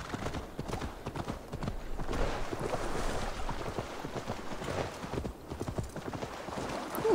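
Rapid clip-clop of horse hooves trotting steadily over marshy ground in Assassin's Creed Valhalla, close and continuous, with a faint rushing background and a brief squeak at the end.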